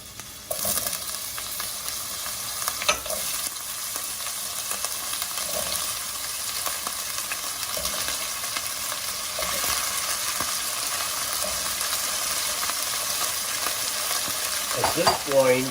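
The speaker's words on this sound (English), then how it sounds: "we are going to lightly brown the potatoes" Potatoes for an aloo palak dish browning in a hot pan with popping seeds, a dense continuous sizzle with occasional stirring knocks, close and steady, no voices.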